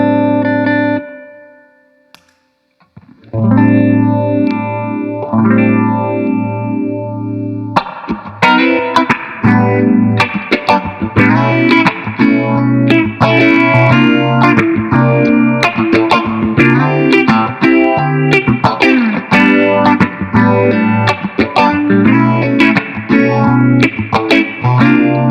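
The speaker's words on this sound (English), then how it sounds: "It's wonderful, wonderful phaser sound," Electric guitar played through an Electro-Harmonix Small Stone phaser pedal, a sustained chord fading out, then a loud, smooth swirling phased riff of rhythmic strummed notes playing steadily without talk.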